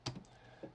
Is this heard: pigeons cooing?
no